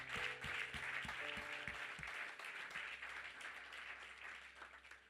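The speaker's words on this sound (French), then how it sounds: "j'aimerais qu'on acclame pour Christelle." A church congregation applauds during a special worship service, a steady wash of clapping from many hands lasting throughout, with music tones beneath at the start.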